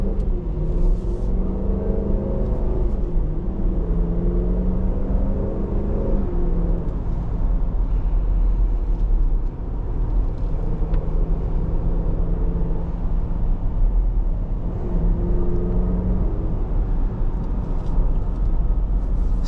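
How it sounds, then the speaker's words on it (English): A 2023 Dodge Durango R/T Blacktop with a naturally aspirated 5.7L Hemi V8 is driven, its engine holding a deep, continuous rumble from inside the cabin with gentle rises and falls in revs and steady road noise underneath. "There is not much else out there that sounds like a NA V8."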